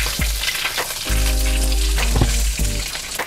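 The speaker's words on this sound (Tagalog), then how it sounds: "So yung butter, lulusawin lang natin dito." Butter melting in a hot pan, a loud close sizzle and crackle with brief spatula scrapes and a low hum underneath, no one speaking.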